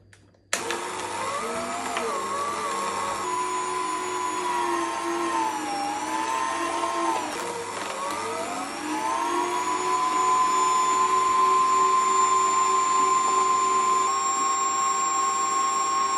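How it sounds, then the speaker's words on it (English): Electric juicer pressing six cut-up lemons for a ginger, lemon, garlic and cayenne flu shot, a steady close motor whine that dips in pitch under load around the middle, then settles into an even high drone. "Next, we are juicing the lemon slices."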